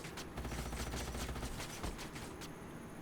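Assault rifle fire in the strategy game Age of Wonders Planetfall, quiet bursts of rapid shots that rattle steadily and then trail off toward the end.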